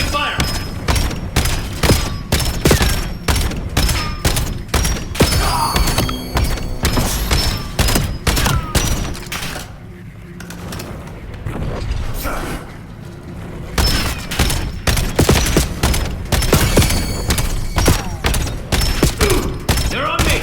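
Heavy, rapid gunfire from the video game Black Ops 7, loud sustained volleys of sharp shots that pause for a few seconds midway before resuming just as intensely.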